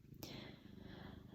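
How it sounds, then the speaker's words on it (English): A cat purrs close by in a steady low rumbling pulse, soft and continuous, with a brief brighter click near the start. "You may hear a purring in the background."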